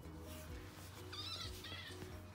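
A cat gives two short, faint, high meows over a low steady hum and background rumble.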